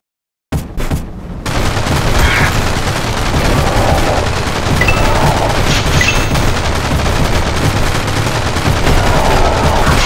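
Rapid video game gunfire, loud and dense, runs almost continuously for about ten seconds after a brief silent start, with volleys layered over one another.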